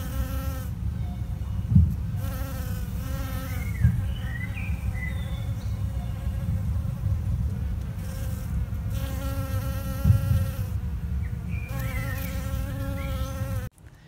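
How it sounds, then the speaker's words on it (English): Honeybees buzzing at close range around Architoniaster flowers in a garden, with overlapping drones rising and fading in waves as bees come and go, plus faint birdsong in the background. "Honeybees seem to like Architoniaster."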